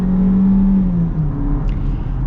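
Turbocharged engine of a 2024 Chevy Equinox Premier accelerating hard from inside the cabin, a loud droning engine note rising in pitch over road rumble, with no talking.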